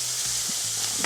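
Chopped onions sizzle steadily in a hot frying pan for a ground turkey stuffed-shell filling, a continuous close crackle with a few soft stirring scrapes and no talking.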